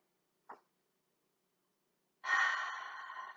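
A deep breath drawn in during a yoga session, a soft brief intake followed by a longer, audible breathy inhale or exhale, close and quiet with no talking.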